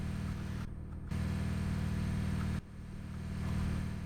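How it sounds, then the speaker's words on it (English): A Scania truck engine in Euro Truck Simulator 2 bounces off the rev limiter, a steady loud drone cut by two brief drops. The engine surges back each time, with no talking. "I think it's just hitting the rev limiter and that's it."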